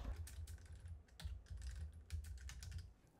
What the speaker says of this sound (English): in the search box, type create a restore point